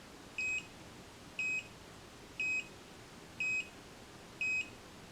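Automatic cordless hair curler giving five evenly spaced short electronic beeps, about one per second, clear and close over faint background hiss.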